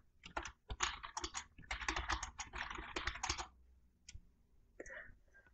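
Checklist items are typed out on a computer keyboard in fast, close bursts of clicking keystrokes. A short pause follows, then a few final key taps that sound like hitting enter.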